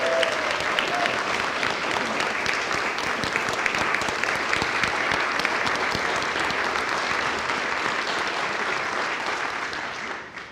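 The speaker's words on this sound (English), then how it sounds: "How about a standing ovation for Davlin Hill?" Sustained applause from a seated-then-standing audience giving a standing ovation for Davlin Hill, a dense, steady wash of clapping from a large crowd that holds strong throughout and tapers slightly at the end.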